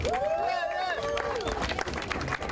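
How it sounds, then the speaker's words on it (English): An outdoor protest crowd applauds as the next speaker is introduced, a rough burst of clapping and cheering with a voice calling out over it, fairly near and busy. "Please give him a round of applause."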